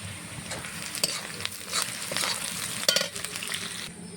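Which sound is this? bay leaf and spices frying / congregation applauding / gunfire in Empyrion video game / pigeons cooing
bay leaf and spices frying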